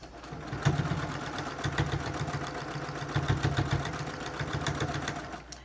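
A home sewing machine stitches elastic onto a fabric face mask, a fast, even mechanical chatter in short runs, close and fairly quiet with no talk.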